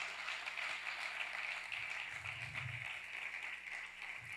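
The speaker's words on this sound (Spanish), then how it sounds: "Vamos a darle un fuerte aplauso a Dios." A church congregation applauds faintly and steadily in a large room, the clapping soft and distant over a low background hum.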